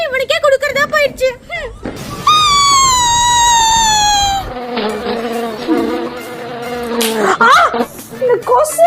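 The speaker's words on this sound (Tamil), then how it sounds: "இந்த கொசு என் தூக்கத்தை கெடுத்துச்சு." A mosquito buzzing close by, a thin high whine that rises and sways in pitch, heard in a couple of sustained bursts between other voices and sounds; people talk around it.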